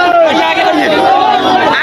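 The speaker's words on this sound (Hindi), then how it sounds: "तो ये भीड़ प्रशांत किशोर की, ये जनसमूह।" Dense crowd of Jan Suraaj party supporters gathered at a rally in Patna, shouting and chanting together in a loud, continuous roar of overlapping voices, close and unbroken throughout.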